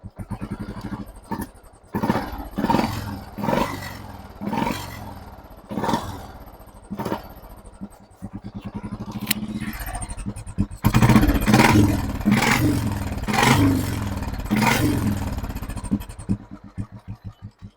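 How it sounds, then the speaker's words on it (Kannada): A 2009 Royal Enfield Electra 350 with a cast iron engine and short bottle exhaust thumps with loud, uneven bursts, revving in pulses before settling into a steady, louder throbbing run that fades at the end. "ಈಗ ಗಾಡಿ ಸ್ಟಾರ್ಟ್ ಮಾಡಿಬಿಟ್ಟು ಶಾರ್ಟ್ ಬಾಡಲ್ ಸೌಂಡ್ ಹೇಗಿದೆ ಕೇಳೋಣ"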